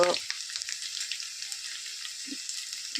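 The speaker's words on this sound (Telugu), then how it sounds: "ఇవైతే బాగా వేగాయి" Vegetables frying in a pan, a steady bright sizzle running throughout with a couple of soft clinks near the end, fairly close and without talk.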